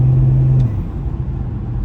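A 2001 BMW E46 330d diesel pulls away on light throttle during a night drive, a low steady engine drone that holds a hum briefly before settling into a smooth, even rumble inside the cabin.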